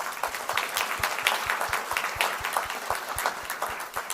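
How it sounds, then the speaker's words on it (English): Applause rises from an audience at the Queensland Australian of the Year Awards, steady moderate clapping from a crowd with a regular low thumping pulse running beneath it. "So once again, a round of applause."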